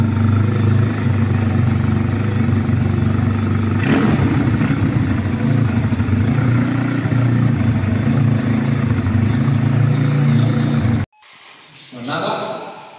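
A 140cc pit bike with a faulty engine that still needs breaking in runs close and loud with a steady, rattly drone for about eleven seconds. It then cuts abruptly to a much quieter, brief rumble.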